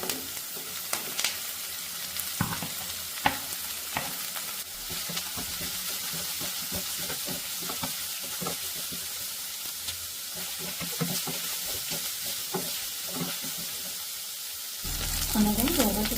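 Chopped onions sauté in a pan for a stir-fried vegetable salad, a steady sizzle close by with scattered clicks of stirring, ending in a louder burst of frying.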